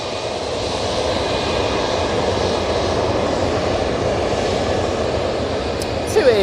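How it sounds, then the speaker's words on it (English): A TUI jet airliner on its takeoff roll at Manchester Airport gives a steady, moderate engine roar throughout, with a short clatter of handling noise right at the end. "TUI now on the roll."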